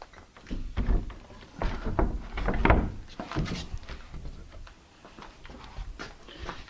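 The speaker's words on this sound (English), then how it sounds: "let me get the door in the opening" A split jamb door is set into its opening with a string of wooden knocks, thumps and scrapes. The irregular, close impacts are moderately loud, and no one talks over them.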